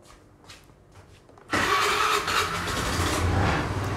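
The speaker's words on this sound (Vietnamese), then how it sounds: "bây giờ mình sẽ ra khởi động xe" A car engine cranks and catches after a quiet stretch, then settles into a steady, fairly loud idle; no one talks while it runs.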